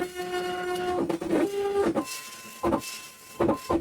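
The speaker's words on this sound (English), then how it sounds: "we should hear the printer behind us kick off, and there it goes" An office printer feeds a draft page, whirring in tonal bursts broken by sharp mechanical clacks and short pauses in an uneven rhythm, loud and close with no talk.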